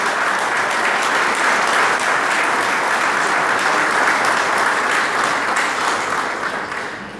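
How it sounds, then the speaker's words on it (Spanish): Loud, sustained applause from a crowd at a public event honoring cooperative members and officials, dense continuous clapping that fades slightly at the end. "Pido para todos ellos un fuerte aplauso por estar acompañándonos hoy"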